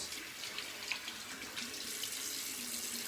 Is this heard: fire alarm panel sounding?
no